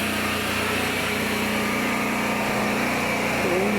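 A generator runs steadily in a mountain setting like Baguio, a constant close engine drone with a high whine, no talking heard.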